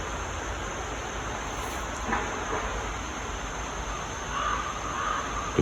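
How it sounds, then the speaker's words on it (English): Crows cawing in a nature park, a few faint distant calls over a steady outdoor hiss, with no talk. "Crows in the background."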